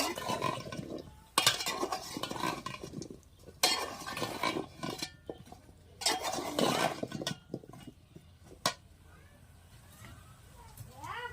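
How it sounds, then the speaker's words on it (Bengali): A spoon stirs ginger, garlic and cumin paste in a pot, making intermittent metallic scrapes and clinks against the pot in short bursts with quiet gaps. "আদা রসুন জিরা বাটা দিয়ে একটু নাড়াচাড়া করব।"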